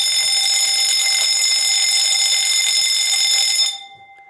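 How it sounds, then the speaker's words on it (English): A fire alarm bell wired as a 2-wire device rings loudly and continuously for several seconds with a bright metallic tone, then cuts off abruptly, leaving a faint ringing decay. "the bell works"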